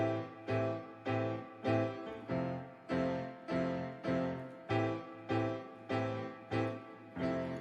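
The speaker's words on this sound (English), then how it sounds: "And this is called a 7th chord." A piano plays the same rich seventh chord twelve times in a steady rhythm, each strike ringing briefly before the next, soft and alone.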